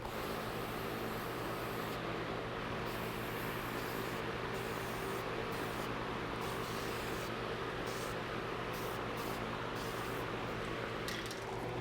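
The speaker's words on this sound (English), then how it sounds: "I'm going to turn on the fan and spray all around with some sealer." Aerosol sealer hisses onto soft poplar wood in steady broadband bursts, layered over the constant low drone and hum of a running fan, with no talking.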